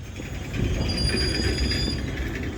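An Australian steel train with a three-locomotive lash-up and DPU stretching as it comes to a stop, giving a steady rolling rumble with high metallic wheel squeal over the top, fairly close and continuous.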